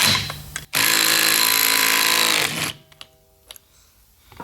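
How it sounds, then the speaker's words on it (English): A KTM 300 engine's crankshaft nut comes off with a short burst of a loud, rapid impact-wrench rattle lasting about two seconds, followed by a few faint clicks and taps in a quiet workshop. "next we're gonna take the nut off the crank"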